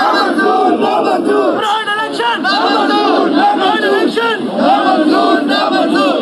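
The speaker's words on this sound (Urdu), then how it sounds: "وہ جناب نعرے لگا رہے ہیں پاکستان تحریک انصاف کے انٹرا پارٹی الیکشن کے خلاف" A group of roughly 25 to 30 people loudly chants slogans in unison against the PTI intra-party election. The shouted rhythmic voices continue without a break, close and forceful, with overlapping cries throughout.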